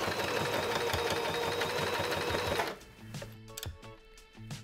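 Sewing machine running steadily as it stitches thick fabric with the thread tension raised, a dense fast mechanical whir for over two seconds that then stops, leaving faint clicks and handling noises.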